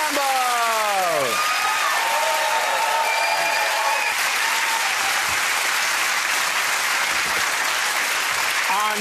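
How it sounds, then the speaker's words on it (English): Studio audience on a comedy panel show applauding Ed Gamble: dense, loud clapping and cheering fills the whole stretch, with a voice talking over the opening second or so and a few whoops rising through the ovation. "Give that round of applause for Ed Gamble."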